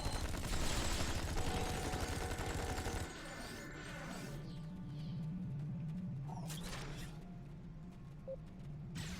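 Gunfire in the Star Trek Online video game: a dense, loud burst of rapid shots for about three seconds, then softer sporadic firing and rumbling combat noise beneath.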